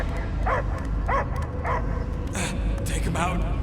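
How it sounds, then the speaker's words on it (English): Dog barking in the video game Guardians of the Galaxy: a run of short, evenly spaced barks and yips at moderate distance, with voices talking over and between them. "I hear only barking."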